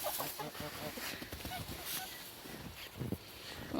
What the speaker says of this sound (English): We'll follow the rooster.